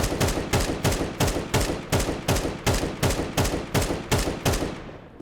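Rapid bursts of AK-47 rifle fire from Counter-Strike 2, about a dozen sharp shots in an even tapping rhythm, loud and close, with no voices.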